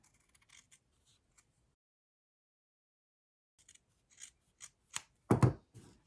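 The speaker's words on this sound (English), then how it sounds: "And then I'll trim my seam allowance a little bit." Scissors trim the seam allowance on a fabric Santa Christmas ornament, a few scattered near snips at the start, then silence, then a quickening run of crisp cuts ending in a louder burst.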